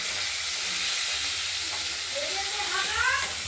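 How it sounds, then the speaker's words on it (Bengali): Pieces of snakehead fish fry in a wok with a loud, continuous hiss and crackle of hot oil, steady throughout, with a faint voice rising near the end. "এগুলোকে আমরা প্রথমে কড়াইতে তুলে ভেজে নিচ্ছি"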